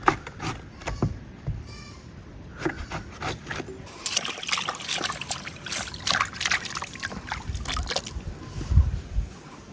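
Raw jackfruit washed by hand under water, with trickling and splashing that grows busier midway, up close, and brief bits of talk in the background.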